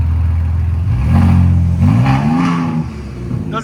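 A Ford Raptor truck with a new loud aftermarket exhaust revs up close, its deep engine note rising and falling through a couple of throttle blips before settling to a rumbling idle.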